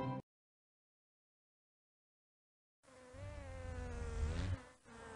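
Cartoon bees buzzing in the children's video game Ready for Math with Pooh, a brief buzz at the start, then silence, then a louder wavering insect drone rising and fading near the end, with no talking.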